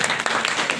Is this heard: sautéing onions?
no